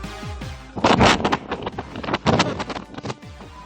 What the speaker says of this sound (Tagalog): dinig ang malakas na hampas ng hangin pahirap sa mga dumaraang motorista sa Paderes Viewpoint